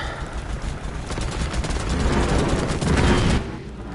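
Gunfire in the VR game I Expect You To Die, a steady rattling fusillade that builds in loudness, close and sustained, then drops away near the end, with no talk over it.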